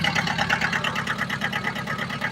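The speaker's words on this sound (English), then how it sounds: "This tractor's stuck now." A stuck tractor's engine runs close by with a steady, pulsing mid-pitched chug, loud and alone with no talk.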